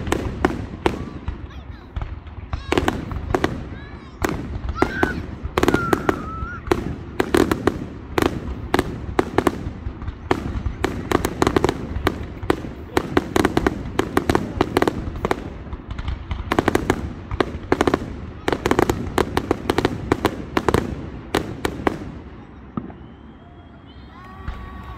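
Fireworks pop and crackle continuously at an outdoor display, dense sharp bursts overlapping for the whole stretch with faint crowd noise underneath.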